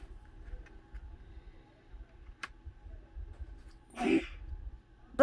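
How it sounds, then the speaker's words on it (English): A single muffled sneeze comes from another room, a short burst near the end of a quiet indoor stretch with faint low background rumble. "Sneezes from the other room."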